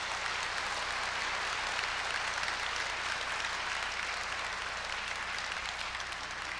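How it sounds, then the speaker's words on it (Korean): Steady, even applause from a large audience at a university president's inauguration ceremony, a continuous wash of clapping at moderate distance with no talking over it. "큰 박수로 시작하겠습니다."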